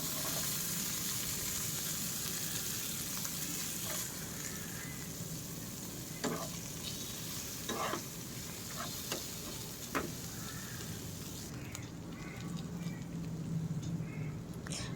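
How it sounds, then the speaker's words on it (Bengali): Onions added to garlic in a pan for a pointed gourd and prawn paste dish fry with a steady, dense sizzle throughout, broken by a few sharp stirring clicks and scrapes; no one speaks. "এরপর আমি পেঁয়াজগুলোকে দিয়ে দেব এর মধ্যে।"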